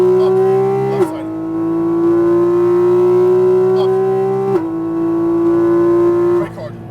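Inside a Porsche 718 Cayman GT4 RS lapping a Las Vegas race track, its flat-six engine drones loudly and climbs steadily, with quick upshift dips breaking the tone twice before the revs fall away at the end.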